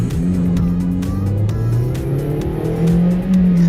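A 2007 Toyota Yaris accelerates hard on a back road, its engine note rising steadily and loud from inside the car, with tire noise beneath and no talking.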